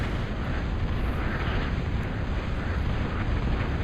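Dense, continuous barrage of artillery fire and explosions in a video game, loud broadband roaring with no clear gaps, heard up close with no voice over it.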